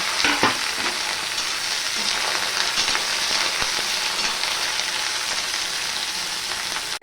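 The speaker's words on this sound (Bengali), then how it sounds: "এবার ভেন্ডিগুলো আমি ভেজে নেব" Okra pieces, small ones whole and larger ones halved, fry in oil for an onion- and garlic-free bhindi dish, with a close, crackling sizzle and scattered stirring scrapes throughout, and no speech.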